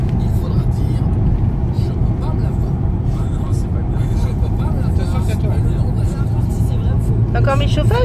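A Renault Megane cruising at about 100 km/h with a steady engine and road hum inside the cabin, while people talk over it.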